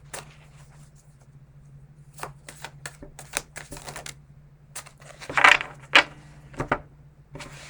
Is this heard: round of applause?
no